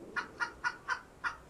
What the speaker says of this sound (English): There's a chicken here.